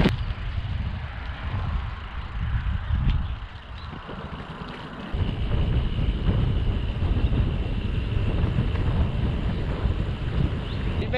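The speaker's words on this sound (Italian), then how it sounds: "Il vento comincia ad accompagnarmi" Steady wind rushing and buffeting across the microphone, a broad outdoor roar that swells midway and continues strongly to the end.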